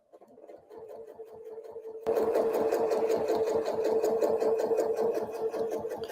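A sewing machine stitching rows on a quilt during free-motion ruler quilting, a rapid mechanical needle chatter that starts slow and soft, then jumps to a loud, steady fast run.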